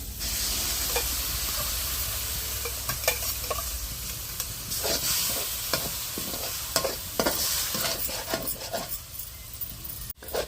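A village-style chicken and mushroom masala curry with tomato paste cooks in a pan, loud close sizzling and hissing with repeated stirring scrapes and clicks, no talking.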